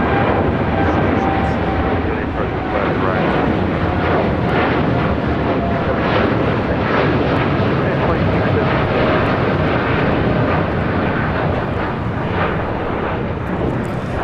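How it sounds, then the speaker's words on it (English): A United Airlines Boeing 787-9 Dreamliner roars on its takeoff roll at LAX, a loud, sustained engine rumble filling the whole stretch, with voices talking faintly beneath it. "This is United Airlines 2217 taking off to Denver, Colorado on the 787-9 Dreamliner"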